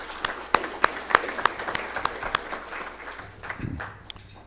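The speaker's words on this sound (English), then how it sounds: "Let's give them a round of applause." An audience at a conference keynote gives a short round of applause, with a few loud individual claps at first thinning out to scattered clapping, and a low voice murmuring near the end.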